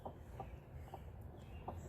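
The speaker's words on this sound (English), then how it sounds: "And here's Elizabeth Taylor, on top of one of the other chickens." Chickens clucking close by, including a broody hen, a few short soft clucks spaced irregularly over a low rumbling background.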